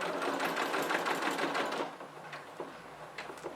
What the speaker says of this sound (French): J'arrive dans mon angle, je continue à coudre.